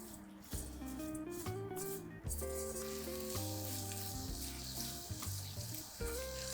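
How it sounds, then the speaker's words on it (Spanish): Blueberries and lemon juice warm in a pan as they are stirred, giving a soft, steady low sizzle and gentle scraping, faint and close beneath prominent music. "voy a mezclar ligeramente hasta que esto empiece a tomar temperatura"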